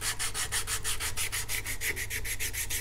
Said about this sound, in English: So what I do now is to get a piece of 120 sandpaper. I fold it a few times,